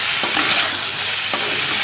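Potato and eggplant sauté in a pan with a loud, dense, steady sizzle close up and a couple of soft stirring scrapes.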